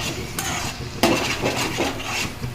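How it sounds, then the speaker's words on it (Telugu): Tomato, brinjal and onion are stirred as they fry in a pan, with a soft sizzle under scraping spoon strokes and a sharp clink partway through, close and brief. "టమాటా వేసుకుంటున్నాం ఫ్రెండ్ తిప్పుకోవాలి"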